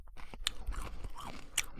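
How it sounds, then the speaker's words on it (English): A person chewing food close to the mic, with soft crunchy bites and wet mouth sounds in a brief irregular run, no talk over it. "Can you hear me chewing?"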